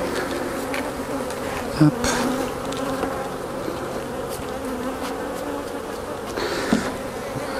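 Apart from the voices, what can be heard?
bees buzzing at an open beehive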